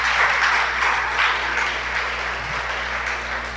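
A crowd applauding steadily throughout, a dense wash of many hands clapping at even loudness.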